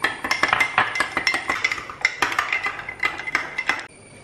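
A spoon stirs coffee briskly in a glass, producing rapid, rhythmic metallic clinks against the sides for about four seconds, loud and close, then stopping abruptly.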